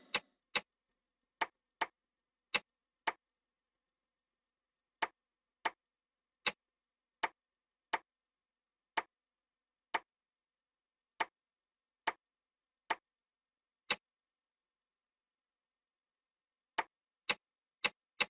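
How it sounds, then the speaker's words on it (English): A clock ticking in the video game Dark Fall: The Journal: sharp, isolated clicks at uneven intervals against silence, with longer gaps between some ticks. "What a strange clock."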